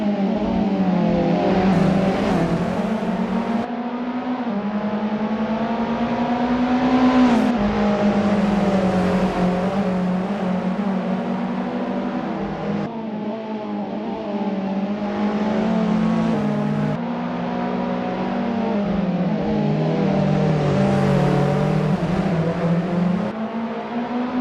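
Formula Alfa race cars in a racing video game scream along at high revs, with engine pitch rising and dropping through gear changes. Several cars overlap in a continuous, loud drone.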